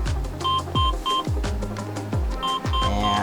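A wireless security alarm panel in an RV answers a tripped motion sensor with a string of short, loud electronic beeps in a regular stop-start rhythm, close by and alone.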